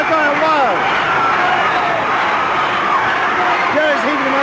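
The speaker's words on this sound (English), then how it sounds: "And again, the crowd are going wild." A wrestling crowd roars in a steady, loud wash of cheering and whooping, with voices rising and falling throughout and no pause.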